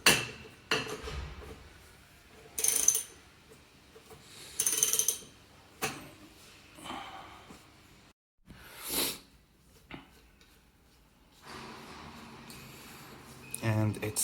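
Wrench working a bolt loose from the triple tree clamp of a BMW R nineT motorcycle, giving intermittent metallic clicks and ratcheting bursts at close range, separated by quiet pauses and light handling noise.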